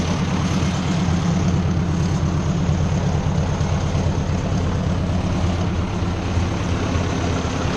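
A tractor engine idles on the last fuel left in its lines and carburetor bowl, a loud, close, steady low rumble that runs unbroken throughout with no talking.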